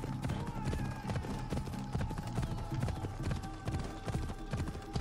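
Rhythmic clip-clop of horse hooves trotting steadily in the video game Assassin's Creed Odyssey, loud and continuous over ambient game sound.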